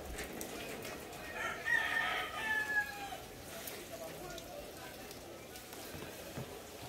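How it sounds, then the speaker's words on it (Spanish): A rooster crows once or twice at a distance over a constant rushing background, with no other prominent sounds. "Se oyen los gallos."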